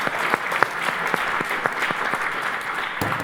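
An audience applauds at a business event, a brief burst of dense clapping with a few sharper individual claps standing out, fairly close and steady.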